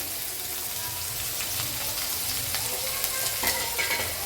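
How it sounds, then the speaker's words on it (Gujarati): Finely chopped capsicum with chillies and curry leaves sizzling in a pan while being stirred, a dense close frying hiss with scraping stirs, for street-style sandwich filling; no talking. "અને મિક્સ કરી દેશું હવે આ રીતે આપણે સારી રીતે મિક્સ કરશું"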